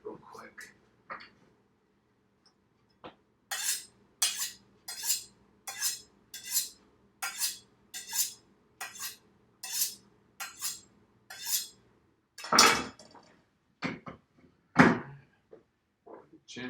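A kitchen knife honed on a steel before cutting ginger, a run of about a dozen evenly spaced scraping strokes close by, with brief talk before and some clatter afterward.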